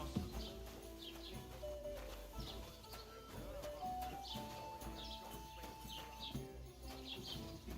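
Horses walk in a video game with faint, steady clip-clop hoofbeats, audible under background music and ambient bird calls.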